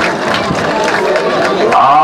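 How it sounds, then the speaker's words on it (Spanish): Crowd noise at a jaripeo rodeo in San Juan Las Joyas, Guerrero, a steady, dense wash of clapping and murmuring voices from a large audience in the arena, swelling slightly louder toward the end. "Venga el aplauso, señoras y señores."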